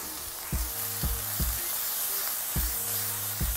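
Bay leaves frying in a pan for spicy chicken Bicol Express, a steady close sizzle broken by regular spoon scrapes and knocks against the pan, roughly one every half second.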